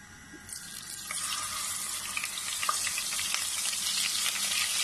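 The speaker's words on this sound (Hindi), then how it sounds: "एक नॉनस्टिक पैन लिया है हमने, इसमें हमने 3 टेबलस्पून ऑयल ऐड किया है, इसमें हम अपनी जिंजर गार्लिक पेस्ट ऐड करेंगे" Ginger garlic paste hits about three tablespoons of hot oil in a nonstick pan, and a bright sizzle swells up within the first second, then holds steady and close with scattered small pops.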